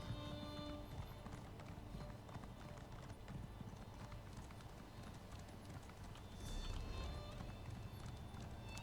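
Horse hooves galloping in Elder Scrolls Online, a rapid, steady clip-clop rhythm running throughout with game ambience beneath and a louder swell near the end.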